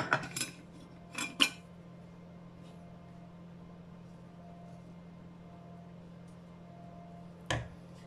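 A big spoon scoops leftover chicken from a dish, with a few close metallic clinks near the start and one more near the end, separated by a low steady hum.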